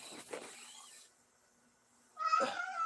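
A cat meows twice, close and clear, with a quiet pause between the two calls.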